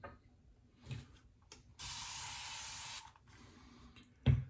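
Running water rinsing shaving soap lather off a face, heard as a steady hissing spray for about a second, framed by softer splashing and a sharp knock at the end.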